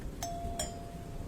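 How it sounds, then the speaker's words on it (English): A house doorbell rings at the front door on a late night, a quick two-note chime with the second tone ringing on briefly, faint over a low background rumble. "then rang the doorbell"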